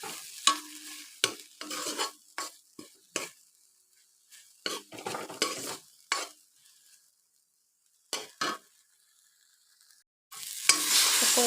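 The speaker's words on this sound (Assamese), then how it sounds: "আকৌ এবাৰ ভালকৈ লৰাই দিম" Taro being stirred in a pan on a gas stove, a spatula scraping and clinking in short, irregular bursts separated by silent pauses, closing with a steady sizzle of frying.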